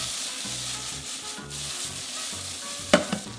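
Mushrooms frying in butter sizzle softly in a pan while being tossed, with rhythmic scraping and shuffling strokes and a couple of sharper clacks toward the end.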